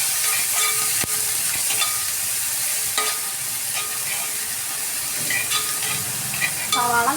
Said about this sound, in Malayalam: സവാള നല്ല ഒരു ഗോൾഡൻ കളറാകുമ്പോൾ നല്ലോണം വഴറ്റണം